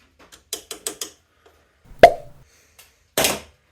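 Cotter pin worked out of the rear wheel axle of a Honda C70 motorcycle: a few quick small metallic clicks, one sharp snap, then a brief scraping rattle, close and otherwise quiet.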